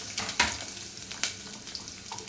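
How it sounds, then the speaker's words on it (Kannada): Chopped onions sizzling in hot oil for a hotel-style radish sambar, a faint, close crackle with a few sharp spattering pops and stirring scrapes over a short span. "ನಾನು 2 ಮೀಡಿಯಮ್ ಸೈಜ್ ಈರುಳ್ಳಿನ ಹಚ್ಕೊಂಡಿದ್ದೀನಿ, ಅದು ಹಾಕ್ತೀನಿ."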